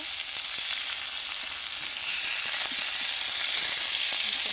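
Hilsa paturi fries in a pan with a steady, close sizzle that holds at an even level throughout, with faint scraping as the fish is turned.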